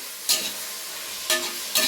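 Tomatoes fry in a pan for mushroom biryani, a steady sizzle broken by three short bursts of scraping as a spoon stirs them, no talk.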